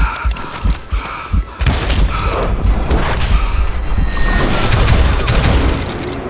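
Blasts from a double-barrel shotgun in the Western shooter Call of Juarez: Gunslinger, loud booming shots that start as separate thumps and then merge into dense, continuous gunfire and game action.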